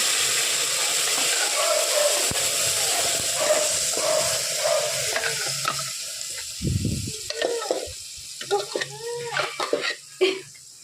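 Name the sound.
ground sambar paste added to hot tempering oil, sizzling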